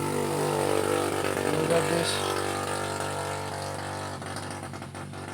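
Motor engine noise in the video game Little Nightmares: a loud, steady mechanical rumble with sustained hum, fairly close and continuous, with a person speaking briefly over it.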